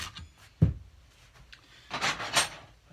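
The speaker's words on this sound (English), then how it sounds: "So this here is the Shinto rasp, which is a very aggressive, it's a bunch of like saw blades that are entwined together." A Shinto rasp made of interlocked saw blades carves a wooden cigar box guitar neck in a few short, rough scraping strokes, with a sharp knock early on, close and without talk.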